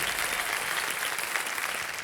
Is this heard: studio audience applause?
yes